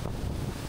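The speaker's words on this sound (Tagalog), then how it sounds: "So ang lakas ng hangin, parang may bagyo." Strong wind gusts at Hulugan Falls in Luisiana, Laguna, making a steady, close, buffeting roar across the microphone with a low rumble underneath, heard alone without talk.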